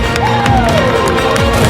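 A loud crowd cheers at a scrum world record attempt in central Newcastle upon Tyne, a Rugby World Cup host city, with a brief burst of massed shouting and a rising whistle-like cry.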